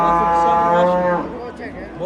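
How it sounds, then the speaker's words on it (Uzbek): A large cow at a livestock market gives a single long, loud, close moo that fades after about a second, leaving quieter market background. "katta gina sigir ekan-a?"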